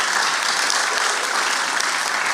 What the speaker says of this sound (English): if you'd like to applaud, now would be a good time to applaud to your candidates.